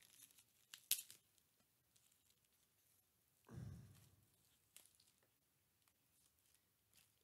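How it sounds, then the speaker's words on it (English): Plastic wrap tears sharply off an Elgato HD60S game capture box in one brief ripping burst, with a fainter crinkle just before it and light handling rustles after, close and quiet overall. "Plastic wrap."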